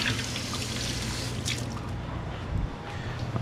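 Tap water runs and trickles while potatoes are rinsed at a kitchen sink, a steady close splashing stream with small irregular drips and clatters.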